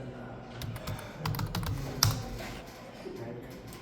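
Keys clatter in quick irregular bursts as someone types on a computer keyboard, close and fairly quiet, with a faint voice murmuring underneath.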